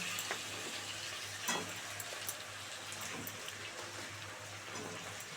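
Malabar spinach and fish head frying together in a pan for a Bengali chorchori, a soft continuous sizzle with faint stirring scrapes, fairly quiet and steady throughout.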